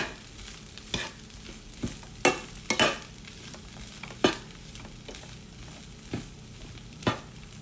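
Food is stirred while it fries in a pan in a home kitchen: a low, continuous sizzle with scattered scraping and clacking knocks from the utensil against the pan, close and moderately loud, with no talk.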